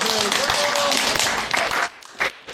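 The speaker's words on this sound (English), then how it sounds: "everybody give her a round of applause" A crowd claps for a JROTC cadet, the dense patter holding for under two seconds before breaking off into a few scattered claps.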